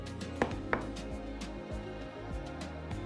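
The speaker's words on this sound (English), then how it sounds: "Now what I like to do is just flip it over and slice it into pieces" Knife cutting through a sticky date cake, two sharp taps of the blade hitting the board amid quiet soft cutting noises, close and faint.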